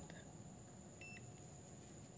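A multimeter set to diode mode gives a short, faint electronic beep, a thin high tone heard once or twice against quiet background hiss.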